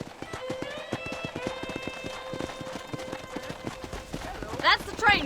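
Horse hooves clip-clopping at a steady trot in the game Red Dead Redemption, rhythmic and fairly close, alongside a sustained musical tone, with a brief sharper burst near the end.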